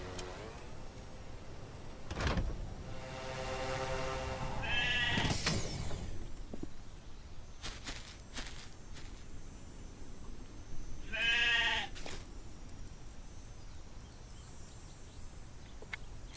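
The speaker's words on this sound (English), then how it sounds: "Hey, I heard a sheep." Sheep bleat outdoors, two separate wavering calls several seconds apart over steady background noise, with a bump and some clatter in between.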